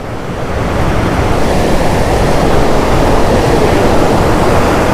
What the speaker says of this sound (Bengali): ঝর্নার কি গর্জন দেখুন শুনুন